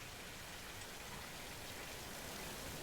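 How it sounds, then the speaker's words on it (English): Heavy rain falls in a steady, even wash of hiss with no breaks, heard faintly and alone. "The great rain."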